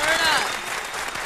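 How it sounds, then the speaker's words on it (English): A studio audience applauds for Burna Boy on a morning radio show, quick clapping mixed with sweeping tonal sound effects that fade slightly toward the end. "Round of applause."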